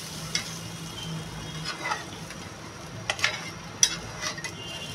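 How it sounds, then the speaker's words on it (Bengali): Pabda fish curry in a spicy oil gravy bubbles in a pan with a soft, steady sizzle, while several sharper scrapes and clinks of stirring stand out close by. "আমার তরকারিটা ভালো করে ফুটছে, এরকম ফুটতে দেবো ভালো করে।"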